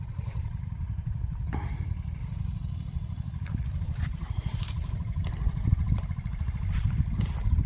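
A tractor engine works in a cotton field, a low rumbling drone running steadily at middle distance, with a few light clanks and ticks over it.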